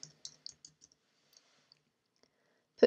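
A computer mouse and keyboard give a quick run of light clicks and taps while a word is typed into Microsoft Word, spacing out into sparse soft ticks before one louder knock at the end.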